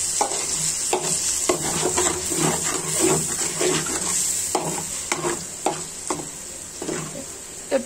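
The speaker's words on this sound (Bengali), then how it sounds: "এখন আমি এই মশলাটা কষিয়ে নিচ্ছি" Spice paste of onion and garlic being sautéed in a pot, with a continuous loud sizzle and repeated scraping stirs of a spoon against the metal at close range.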